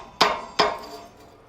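A rounded face hammer strikes a forged metal Christmas tree ornament twice in quick succession, each sharp ringing hit fading away, with no talking.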